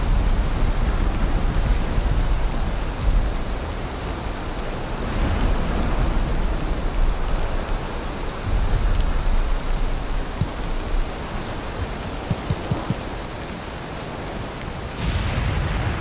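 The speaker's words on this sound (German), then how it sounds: "Ja, man hört es, es ist sehr laut, das Gewitter." Heavy rain pours steadily during a thunderstorm in the video game Valheim, with low rolling rumbles of thunder swelling and fading under the constant loud hiss, no voices heard.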